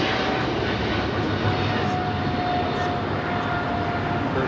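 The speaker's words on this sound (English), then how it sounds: "This is British Airways 282 taking off to London Heathrow on the 777-300ER." A British Airways Boeing 777-300ER takes off at Los Angeles International Airport, its jet engines producing a loud, steady, unbroken roar throughout.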